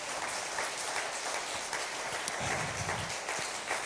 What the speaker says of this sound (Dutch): Zullen we de Heer een applaus geven?